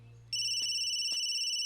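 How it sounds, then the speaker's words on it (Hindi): A phone starts ringing with a sustained electronic tone after a brief low hum, holding steady and loud for over a second. "अरे सोनिया की जहां शादी कैंसिल हुई थी वहीं से फोन आ रहा है।"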